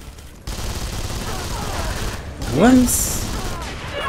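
Gunfire in James Cameron's Avatar: The Game on PC, a dense, continuous fusillade of shots running almost the whole clip, fairly loud, with someone talking over it.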